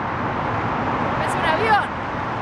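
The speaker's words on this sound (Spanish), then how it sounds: "El ruido que hace el auto al pasar." Car passing along a street in Rome, a brief swelling whoosh that peaks mid-clip over steady city background noise, fairly close and moderately loud.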